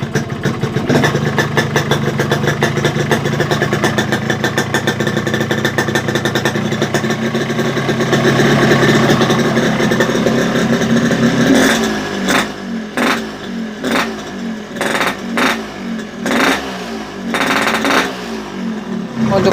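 A Yamaha RX King two-stroke motorcycle engine runs loud and close, idling with a rapid, crackling pulse, then breaking into a series of sharp throttle blips and revs after about twelve seconds.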